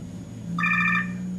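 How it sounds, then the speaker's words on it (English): A phone rings once in a short electronic tone burst of about half a second, clear and nearby, over a low steady hum in a room. "my phone's ringing"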